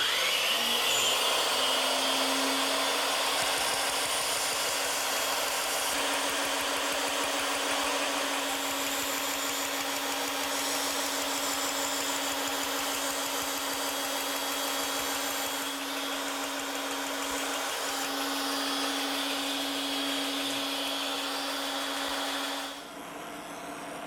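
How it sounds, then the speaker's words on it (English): A bandsaw cuts out a wooden column profile, giving a steady, loud whirring drone with a constant hum that holds for over twenty seconds before dropping off at the end. "And now I just have to take that over to my bandsaw and cut it out."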